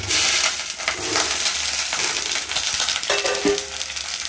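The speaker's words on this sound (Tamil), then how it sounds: "இப்போ கத்திரிக்காய் வந்து நல்லா எண்ணெயிலே வதக்கிடலாம் ஃப்ரெண்ட்ஸ்" Eggplant frying in hot oil in a pan: steady, bright sizzling crackle that stays loud and even throughout, with small pops and clinks over it.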